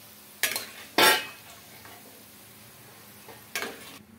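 Fried bitter gourd pieces lifted out of a pan onto a plate, with three separate scraping clatters of utensil against metal over a faint background sizzle, no talking.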